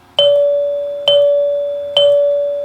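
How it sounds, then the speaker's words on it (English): A Rittenhouse Model 552 xylophone door chime sounds its single side-door note three times, each a clear, ringing bell tone struck about once a second and left to decay, with no talking. "That's the front door chime, and then the side door chime"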